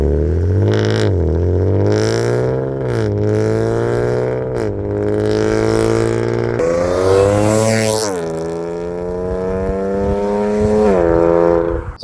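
An Audi S4 fitted with a new exhaust revs repeatedly, its engine note rising and falling in a deep, loud growl that carries throughout, close up and with no talk.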